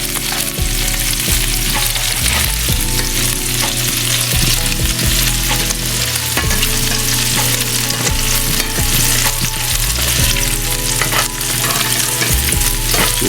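Homemade meatballs sizzle steadily in a frying pan as they are turned, with a continuous close crackle punctuated by soft scraping and clicking from the utensil moving them around.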